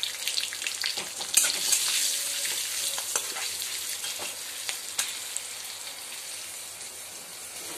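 Chilli and turmeric powder frying in oil in a pan for a raw mango dish, a continuous close sizzle with occasional sharper crackles and stirring scrapes, steady throughout with no talking.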